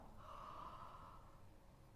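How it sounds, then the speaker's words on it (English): A person yawns during a vocal warm-up, with a long, steady breathy exhale and a tonal hum near the middle, close and fairly loud, lasting about two seconds with no talk. "And now I want you to yawn."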